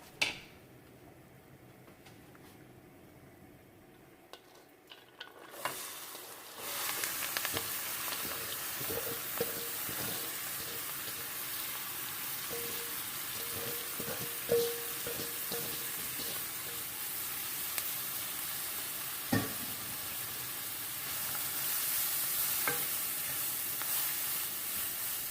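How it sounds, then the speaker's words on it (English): After some quiet handling of the pan, a stick of butter melts and then onion and celery go in to sauté, bringing a sudden, steady, close sizzling hiss broken by a few clicks of stirring. "Now I'm going to saute this for around 10 minutes or until the onion and celery are translucent and softened"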